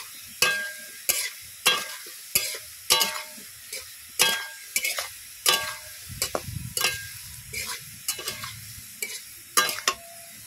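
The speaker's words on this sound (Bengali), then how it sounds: "হলুদ দিয়ে খুব সুন্দর করে নেড়ে চেড়ে নিয়েছি।" A spoon scrapes and knocks rhythmically around a pan of curry with turmeric and gandhal leaves, a dozen evenly spaced strokes over a soft sizzle.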